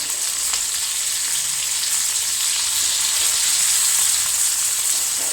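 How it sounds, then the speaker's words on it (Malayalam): Ginger, green chillies and garlic sizzle steadily in a hot pan for a curry, a dense, continuous frying hiss that stays loud and even throughout with no voices. "ഇതാ ഇഞ്ചിയും പച്ചമുളകും വെളുത്തുള്ളി കൂടി ഇട്ട് കൊടുക്കാം കേട്ടോ"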